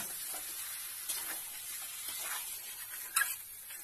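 Mutton sizzles in a pot as two spoonfuls of salt are stirred in, a steady soft frying hiss broken by a few light scrapes and clinks of the spoon against the pot.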